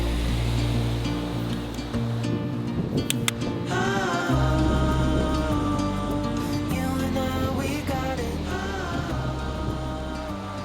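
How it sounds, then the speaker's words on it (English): Waves crash on a shore as the wind picks up, a continuous loud surf roar with churning wash and a steady tonal hum running underneath throughout. "The waves are crashing down here."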